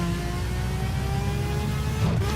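A Ferrari F12 Berlinetta accelerating hard on a short straight, its engine note climbing steadily in pitch, loud and close, then dropping sharply at the end.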